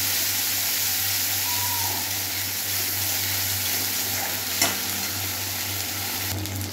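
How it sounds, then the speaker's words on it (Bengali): Ground spice paste frying in a pan for a prawn dish, a steady close sizzle with soft stirring scrapes and a brief knock near the end. "ভেজে মশলা বেটে রাখা মশলাটা দিয়ে দিলাম, ভালোভাবে কষতে হবে"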